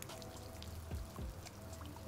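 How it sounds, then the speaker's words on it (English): Steady rain ambience from the video game Minecraft, a continuous wash of pattering and pouring water with a couple of brief low swooshes, heard alone at moderate level. "Or if you just want some rain."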